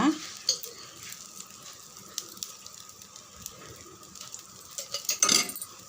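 Oil poured onto a rava dosa on a hot pan, a soft steady sizzle with light clinks of utensils, fairly quiet and close, swelling briefly near the end.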